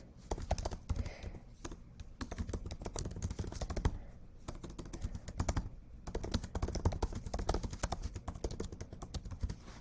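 Steady, close keystrokes on a computer keyboard as a reflection is typed, a dense run of quick clicks with short pauses and no talking.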